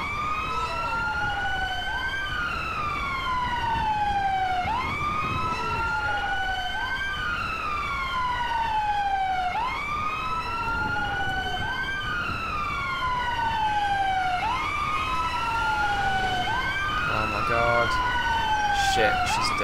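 Wailing emergency vehicle sirens from the video game GTA 5, with ambulances and a London fire rescue scene, sweep up and down in a steady repeating cycle, loud and continuous throughout with faint game noise beneath.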